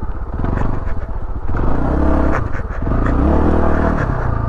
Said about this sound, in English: riding a motorcycle